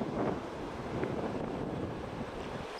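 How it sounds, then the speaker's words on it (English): Ocean waves and gusting wind heard from a hill above the sea near Lantern Hill beach in North Rustico, a steady broadband wash with wind buffeting the microphone and no talking. "And this would be the ocean, complete with authentic ocean sounds."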